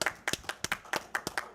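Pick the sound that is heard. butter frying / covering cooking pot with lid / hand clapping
hand clapping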